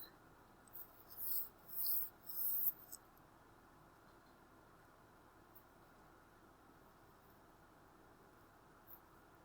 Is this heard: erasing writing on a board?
yes